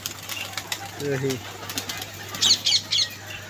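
A pigeon arrives at a pigeon club loft with a few quick bursts of wing flapping and a short coo, while people talk nearby.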